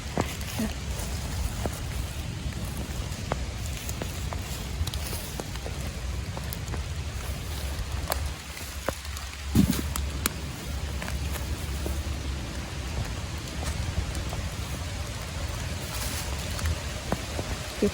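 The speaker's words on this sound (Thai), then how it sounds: "โอ้ยฝนก็ได้ เนาะ" Steady rain falls in a forest during mushroom picking, a dense continuous patter that runs the whole time with a brief lull near the middle, and a voice speaks faintly in places.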